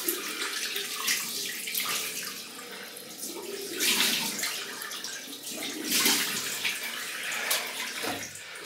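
Cold water pours steadily from a tap into a basin while shaving soap and brushes are prepared, a close, continuous splashing rush that swells and eases slightly over several seconds.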